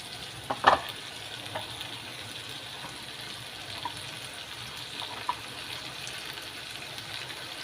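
Cubed potatoes fried and stirred with chicken skin curry in a pan, giving a faint, steady sizzle with a few soft scrapes and a brief louder clatter early on.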